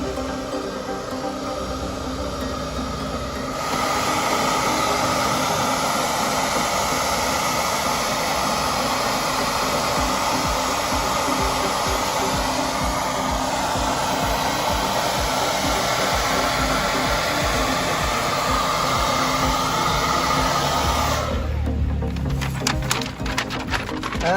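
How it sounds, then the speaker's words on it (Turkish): A hair dryer heats mahogany wood veneer pressed onto a Peugeot 306 center console. A loud, steady whirring blast starts after a few seconds of quieter background, runs unbroken, then cuts off near the end. "Bu şekilde kalıbı oturttuktan sonra fön makinesiyle elimizde ısıtarak pres yapıyoruz."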